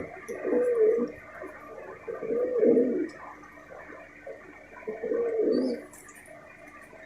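Malwai Punjabi pigeons coo nearby in three slow, throaty rolling phrases separated by short quiet gaps, with no voices.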